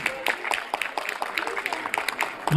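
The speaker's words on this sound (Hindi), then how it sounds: "जोरदार तालियां।" An audience at a Republic Day event applauds loudly for makeup artists, with quick rhythmic clapping heard under a person speaking over it.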